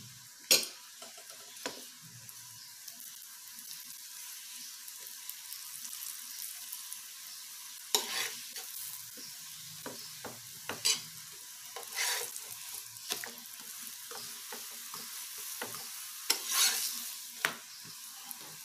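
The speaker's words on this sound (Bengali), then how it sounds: "তাহলে আমার পরোটাটা ভাজা হয়ে গেছে, একটা একটা করে ভেজে দেখাচ্ছি" Fenugreek methi paratha shallow-frying in refined oil on a pan over medium flame, a faint, steady sizzle with scattered soft scraping clicks and taps of turning, heard alone over nearly twenty seconds.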